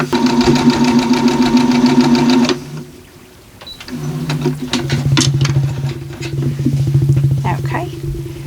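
A sewing machine stitches a quilt block with a fast, steady mechanical whir and rhythmic needle clatter, pausing briefly midway before running again, with a voice talking over it.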